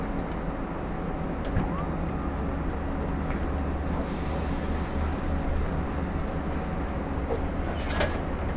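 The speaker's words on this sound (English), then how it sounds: "train is now being moved forward, double stop" A Long Island Rail Road train at Westhampton station rumbles steadily as it moves forward, a continuous low mechanical drone with faint squeaks, with nobody talking.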